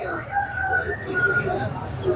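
A hefty aseel rooster at a poultry market crows in drawn-out, moderately loud calls, blended with steady chatter from people around it.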